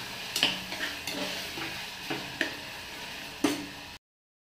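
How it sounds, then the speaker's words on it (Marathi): Capsicum being sautéed with softened tomato in a pan, soft sizzling under intermittent scraping strokes of a spoon, a few sharper clinks against the pan, fairly quiet and close. "त्यानंतर आपण यामध्ये टाकणार आहोत शिमला मिरची. थोडंसं आपण ते परतून घेऊया."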